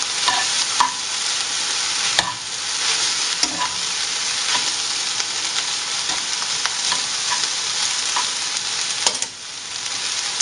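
Shirataki miracle noodles, boiled and strained, stir-fried in a pan with shrimp, giving a steady loud sizzle throughout with occasional scraping clicks of a utensil.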